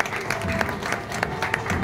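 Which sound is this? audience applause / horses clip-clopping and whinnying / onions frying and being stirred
audience applause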